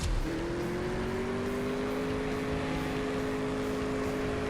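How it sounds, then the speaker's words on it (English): A steady, droning racing car engine from the drag-racing game CSR2 holds a sustained tone at near-constant pitch after a brief initial surge, loud and unbroken throughout, with no voices. "That's actually a very good live racing car, so it should give me a run for my money"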